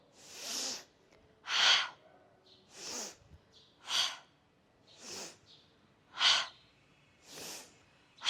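Slow, deliberate breaths during a twisting wake-up stretch, seven or eight airy inhale-exhale bursts spaced about a second apart, close and clear against near silence.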